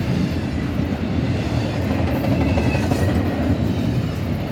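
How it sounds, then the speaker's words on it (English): Two Union Pacific locomotives pull a westbound intermodal freight train past at close range, a continuous loud rumble of rolling wagons with steady rail noise throughout. "Got two UP locos, intermodal heading west."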